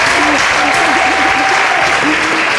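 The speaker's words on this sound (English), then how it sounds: "Our audience is clapping for the stockfish" Studio audience applauding during a Nigerian cooking show where Ofe Achara soup is being made with stockfish, a steady dense wash of clapping throughout, with faint talk over it.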